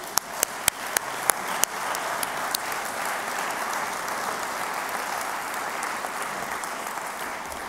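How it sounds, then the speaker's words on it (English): An audience at a university chancellor's installation ceremony breaks into sustained applause. A few distinct claps ring out first, then a dense, even wash of clapping carries on throughout. "I think that deserves a round of applause."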